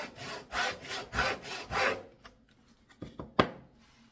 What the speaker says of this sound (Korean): 톱질은 이렇게 하시는 겁니다